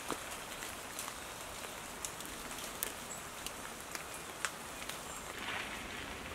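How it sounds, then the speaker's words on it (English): Light rain patters during a countryside walk to Ightham Mote in Kent, a soft steady hiss of drops with scattered sharper taps, faint and close, with no voices. "The rain's eased off a little bit"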